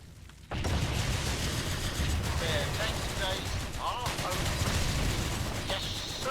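Machine gun fire from infantry in the Blitzkrieg 3 strategy game: dense, continuous bursts and rattling shots under battle noise, with brief game sound effects layered over the gunfire.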